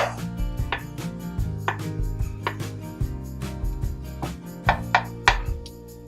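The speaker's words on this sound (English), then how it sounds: "I like to slice my garlic instead of mincing it." Garlic being sliced with a knife on a cutting board for an Italian tomato sauce: crisp, fairly regular chops close by, with no talk.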